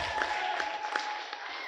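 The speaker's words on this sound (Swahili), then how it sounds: "Chapa makofi na vigelegele kwa Bwana." A church congregation at a Swahili prayer service claps and ululates. The steady, fairly faint wash of clapping runs throughout, with a thin, high trilling voice held above it.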